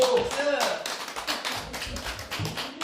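A small group claps at a pantomime rehearsal, a few seconds of scattered, uneven hand claps heard close by.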